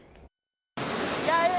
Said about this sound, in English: I watched in shock as the waves hit the foundations of several buildings along the shore.